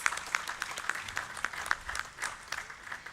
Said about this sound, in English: A hand of applause to my panelists